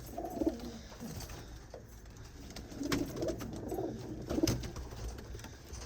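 Home-bred pigeons coo softly in a few low, rounded phrases, fairly close but quiet, with faint background noise and no talking.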